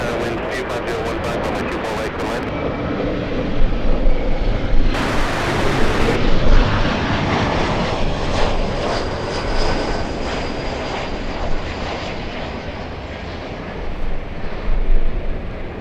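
Southwest jet airliner taking off from LAX, a loud steady jet engine roar that swells and holds across the whole stretch, with brief radio chatter early on.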